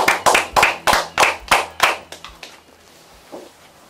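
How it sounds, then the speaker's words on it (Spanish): A small group claps for a band at a live music session, about a dozen sharp hand claps in quick succession that thin out and fade to near silence. "Un aplauso también para los chiquillos."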